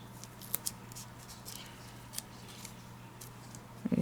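Scissors trimming out a paper piece for an enchanting pocket card, a series of short, crisp snips spaced irregularly, close and fairly quiet, with a louder cluster of cuts at the end.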